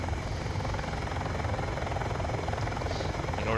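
Helicopter rotor and engine noise from the Flyout video game runs as a steady, dense whir with a fast chopping texture, loud and constant throughout, with no talking.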